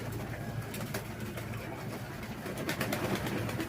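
Pigeons coo softly while bathing in coarse salt, a low murmuring coo under a steady hiss of background noise.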